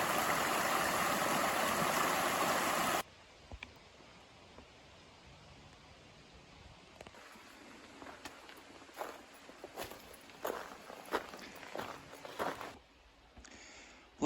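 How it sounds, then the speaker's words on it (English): Jeffers Brook, a mountain stream on the Appalachian Trail below Mount Moosilauke, rushes loudly up close at first, then settles into a steady, softer wash of flowing water with crunching footsteps and rustling on the trail. "This is Jeffers Brook."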